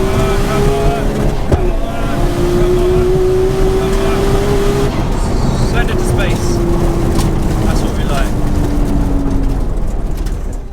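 A Nissan Skyline R34 GT-R runs down a drag strip, its loud engine climbing in pitch through rising sweeps with a sharp gear change near the start, then pulling hard into the distance as excited voices shout over it.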